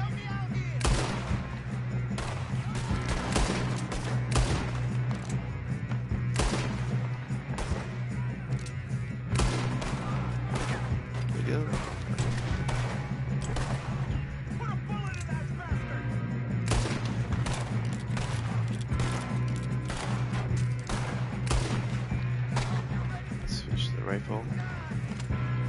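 Gunshots ring out in Red Dead Redemption 2, a dense run of sharp cracks and rapid volleys throughout, with a steady low hum underneath and a voice talking at points.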